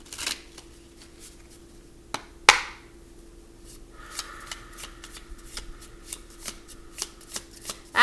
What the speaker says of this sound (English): Let me pull an animal card too, Katie.